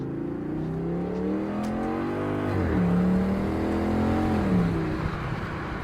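A cheap V10 exotic car engine running and revving, a steady loud drone that rises and falls in pitch with throttle, close by, with no one talking.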